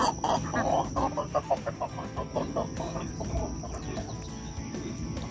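An adolescent rooster makes a string of odd, rapid clucking and purring calls near hens, close by, in quick bursts that gradually soften.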